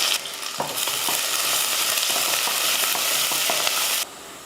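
Onions sizzle in hot oil in a pressure cooker for a chicken lunch dish, a steady loud frying hiss with faint stirring clicks running for about four seconds and then stopping abruptly.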